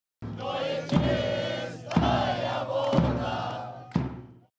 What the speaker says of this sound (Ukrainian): А далі оплески, радощі та українські пісні